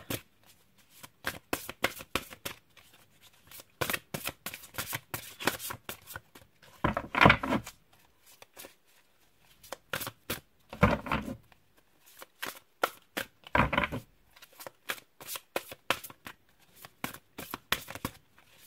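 A deck of tarot cards is shuffled by hand again and again, with rapid riffling bursts and soft slaps between pauses, close and crisp with no talking.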